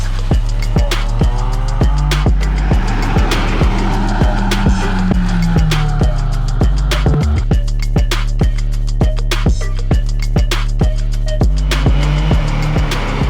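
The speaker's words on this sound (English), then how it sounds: "here's us driving ATVs instead" ATVs driving, with a continuous engine drone that swells and fades, punctuated by frequent sharp knocks and clatters from bumpy ground, all close and loud.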